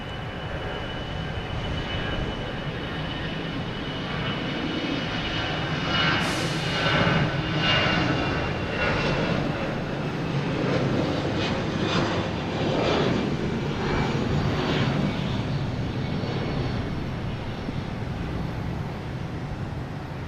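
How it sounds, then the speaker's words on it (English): Icelandair jet airliner landing at Logan Airport, a steady loud engine roar with a sweeping whine and rumble building in the middle, heard alone without talk. "There's Iceland Air coming in from Reykjavik."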